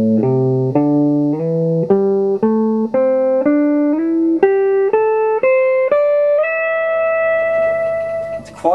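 A blues lead lick on electric guitar, clear and up close, plays about a dozen sustained notes that step upward with gliding slides between positions. The final note rings out long and alone.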